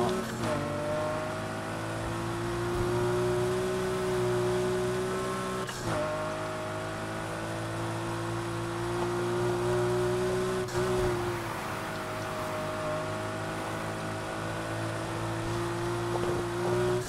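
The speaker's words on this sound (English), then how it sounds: "You can hear the engine rumble from the car in front." A continuous car engine drone in the video game Need For Speed Heat rumbles throughout at a steady pitch, rising and dipping slightly, with no voices.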